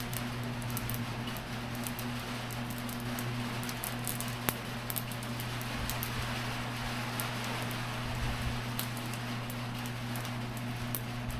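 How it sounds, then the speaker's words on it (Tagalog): Rain falling outdoors beside a cooking fire, a steady dense patter on surfaces with scattered sharper drips, plus a constant low hum underneath. "Uy, umuulan."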